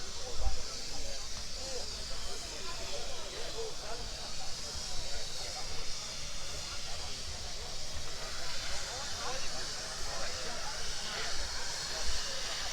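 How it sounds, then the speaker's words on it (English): Garrett Suffolk Punch steam tractor at an outdoor car show giving off a steady, even hiss of steam that runs for the whole stretch, with crowd noise and distant voices underneath. "for steam lovers I'll just give you a view of Garrett's Suffolk Punch"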